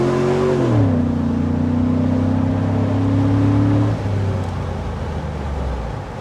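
A heavy Chevrolet SSR convertible truck engine hums steadily, its pitch dropping after a shift and then holding before easing off, with road noise underneath and no voices.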